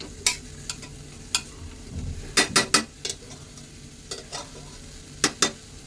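A spatula stirs ghevda (flat bean) vegetable in a pan, with a low frying sizzle underneath and scattered sharp scrapes and clinks of the utensil against the metal in quick clusters, close and moderately loud.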